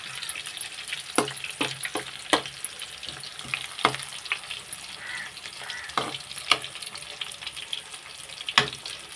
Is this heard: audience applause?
no